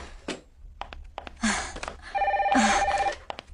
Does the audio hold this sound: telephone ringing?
yes